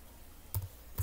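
A couple of sharp keystroke clicks on a computer keyboard while typing a word into billing-management software, isolated and close in a quiet room.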